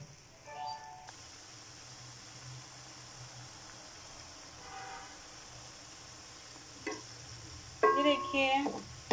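Keema-stuffed bitter gourds fry in a pan toward light brown, a faint, steady sizzle marked by occasional soft clinks and stirring, growing a little busier near the end.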